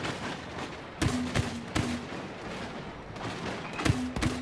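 Star Wars Battlefront video game gunfire: sharp blaster shots and thumps in small clusters around one second, near two seconds and again near four seconds, loud and close over a steady background battle rumble.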